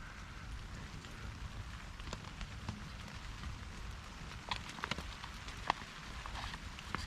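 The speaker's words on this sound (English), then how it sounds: "Pick up that rain again." Steady rain falls on a tent during a long storm while camping, a soft continuous patter with scattered sharper drops, fairly faint and with no voices.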